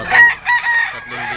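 A Kelso gamefowl rooster crows loudly and close at a poultry market in Bocaue, Bulacan, with a long drawn-out call broken into several rising and falling segments.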